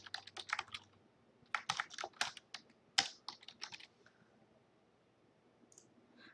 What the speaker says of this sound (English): I'm typing them down here